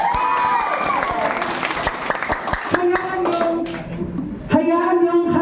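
Scattered claps from an audience at an office spoken poetry event, heard close under a loud voice and background music tones.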